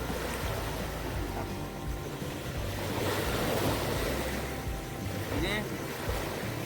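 Sea waves wash steadily onto the shore at Pantai Amal, an undeveloped beach, making a continuous broad rush with wind, while people talk nearby.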